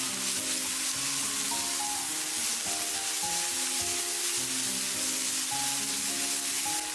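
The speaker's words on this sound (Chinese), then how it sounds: "把葱姜蒜末、小米椒全部倒进来，再加入一勺自制的黄豆酱，快速的翻炒均匀" Garlic, ginger, scallion, chili and homemade soybean paste stir-fried in hot oil in a wok, giving a steady close sizzle with scraping and rubbing from the spatula over a constant background hum.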